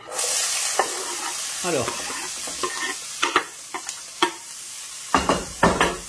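Red and green bell peppers with red onion sizzle steadily in a hot pan, a continuous frying hiss broken by sharp clinks and scrapes of stirring, with a brief spoken word near the start.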